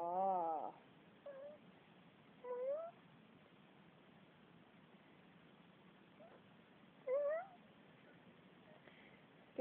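A house cat meows a handful of times at separate moments, short rising calls spaced apart over a quiet, steady room background.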